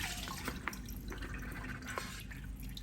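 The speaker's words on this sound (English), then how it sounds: "you can use this with your hand just like this and pour it back in" Turkey stock is poured back through a strainer, giving quiet, steady liquid trickling and dripping with a few small splashes, no talk.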